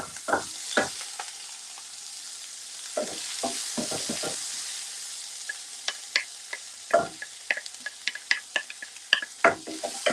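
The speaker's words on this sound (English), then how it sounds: "So saute it for about 2 to 3 minutes until the shallot and garlic, ginger start turning golden brown." Shallot, garlic, ginger and green chili sautéing in a pan during a live cooking demonstration, with repeated bursts of stirring and scraping over a soft, steady sizzle.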